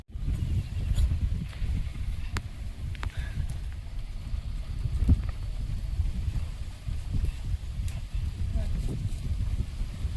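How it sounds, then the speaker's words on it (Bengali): Wind blowing continuously across an outdoor cooking stove, heard as a steady low buffeting rumble that never lets up, with a few faint clicks scattered through it. "কন্টিনিউ হাওয়া হচ্ছে আবার।"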